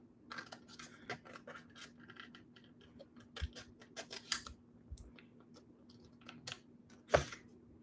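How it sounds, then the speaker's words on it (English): Scissors snip out paper letters for cardmaking, giving a run of sharp, close, quiet cuts at an irregular pace over a faint steady hum, with no talking. "you can literally just snip out your letters"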